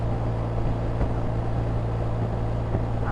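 A BMW R1250RT motorcycle engine runs at low revs, a steady low-pitched hum with a constant droning tone and faint wind noise while riding.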